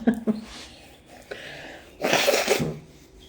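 A single sneeze from an adult with morning allergies, preceded by a sharp inhale and short breathy sniffs, bursting out loud and close.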